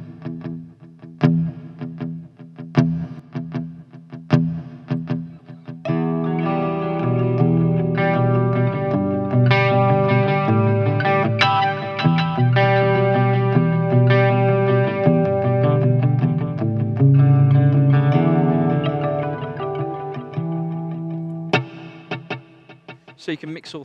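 An electric guitar played through a Blackstar ID:Series amp with a tap-tempo multi-tap delay: sustained distorted chords ring out, trailed by repeating echoes that pile up into a dense wash. A few plucked notes come first and a lone strum closes it.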